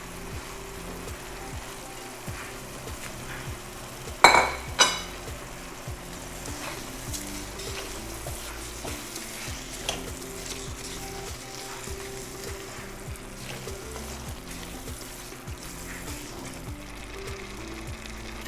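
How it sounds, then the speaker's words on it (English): Washed, drained surti kolam rice sautés in a pot for dry shrimp khichadi, with a steady soft sizzle, a couple of sharp utensil knocks early on, and quieter stirring scrapes without any talk. "I'm just going to saute this real quick now."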